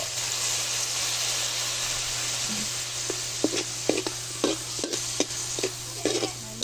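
Mixed vegetables and shrimp are stirred in a frying pan, with a steady soft sizzle and scattered scraping clinks of the utensil against the pan, close by, and no voices.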